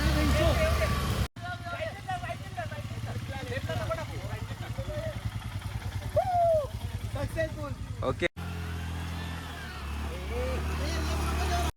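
A vehicle engine labours as it is driven uphill off-road on a jungle track to Rajmachi Fort in Maharashtra, a steady low rumble heard under continuous talking throughout.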